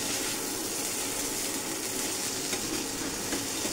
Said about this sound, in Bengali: এই যদি একটু ভালো করে নাড়ে নিব গরম হওয়া পর্যন্ত সসটা